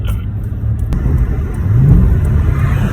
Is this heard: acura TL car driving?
yes